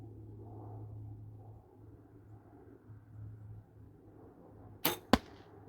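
An arrow leaves a bow fired with a release trigger: a sharp, loud snap followed by a second quick thwack, breaking a faint low rumble of background hum.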